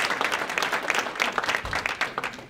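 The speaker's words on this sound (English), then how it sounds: "Let's give Nancy a round of applause." A round of applause from an audience for a woman named Nancy, a dense steady patter of clapping close by with no voices over it.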